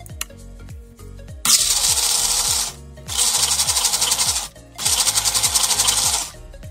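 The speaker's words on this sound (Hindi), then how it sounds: "फिर मैं इसे मिक्सर में अच्छे से ब्लेंड कर दूँगी" A motorized mixer grinder blending cherries for jam whirs loudly in three long bursts with brief pauses between them, a rhythmic ticking running underneath.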